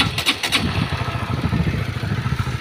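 A Honda CBR150R with the K56 engine runs smoothly after repair, its close, even idle putting out a steady low pulsing with a faint clatter. A couple of brief clicks sound near the start.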